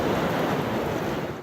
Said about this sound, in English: By midday, the Atlantic Ocean was easily jumping over Winthrop's seawall.